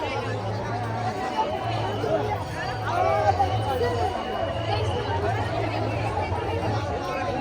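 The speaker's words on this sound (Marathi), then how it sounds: "अशा प्रकारे इथे गर्दी पडत आहे" Crowd chatter at a saints' Kumbh Mela gathering in Latur: a continuous outdoor babble of many voices with a low steady hum beneath, moderately loud and unbroken.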